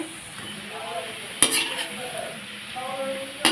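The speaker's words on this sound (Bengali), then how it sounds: "এই বড়াগুলো সুন্দর লাল হয়েছে তো এরকম করে সুন্দর করে উল্টে দিচ্ছি দেখুন কড়াইতে একদম লেগে নেই" Flour fritters (bora) fry in hot oil in a kadai with a steady close sizzle, while a utensil scrapes and clinks against the pan twice as the fritters are turned.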